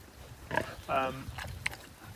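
Pigs on a farm grunt and snort in short, scattered bursts close by, mixed with someone talking quietly over the top in an open outdoor setting.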